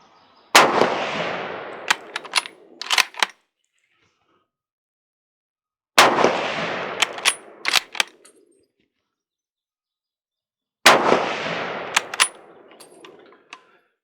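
Bolt-action .30-06 rifle fired at an outdoor range: three loud, separate shots several seconds apart, each with a long echo and a few metallic clicks of the bolt after it.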